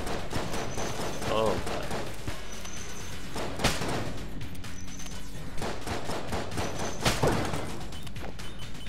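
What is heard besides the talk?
gunfire from the video game Enter the Gungeon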